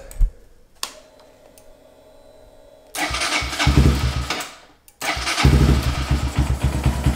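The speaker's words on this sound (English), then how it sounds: "Let's go ahead and fire this bike up." A starter clicks and cranks, then a Honda Grom motorcycle engine catches and roars loudly up close, cuts out briefly, and fires again into a rough idle.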